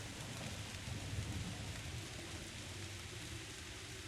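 Heavy pouring rain in the horror video game Lovecraft Country, a steady dense hiss of downpour with a low rumbling undertone, continuous and enveloping.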